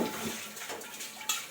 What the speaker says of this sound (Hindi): इस वाले बर्तन में, इसमें मैं दूध काढ़ूंगी। और पहले इसको मैं धो लेती हूँ अच्छी तरह से।